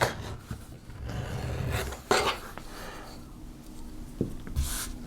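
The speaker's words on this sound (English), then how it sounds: "for taking the edge off all your leather, I always edge bevel front" An edge beveller shaves the edge of leather for armour, giving a few short scraping rasps with light clicks, close and fairly quiet, with no talk over it.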